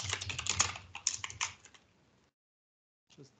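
Fingers type on a computer keyboard in a quick, uneven burst of close key clicks. The clicks stop, then a short pause of silence follows, and a couple of faint taps come at the end.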